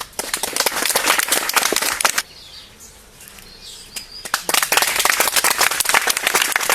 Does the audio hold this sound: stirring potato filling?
no